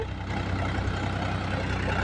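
Srikanth's tractor ploughing a field, with a steady low diesel rumble and an even, unbroken drone held close and loud throughout.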